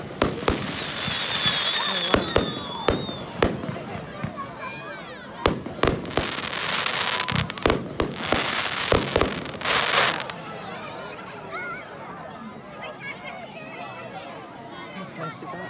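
Bonfire Night fireworks at a Stalbridge display burst loudly, with sharp bangs and crackling barrages in quick succession, while a crowd chatters and people nearby keep talking.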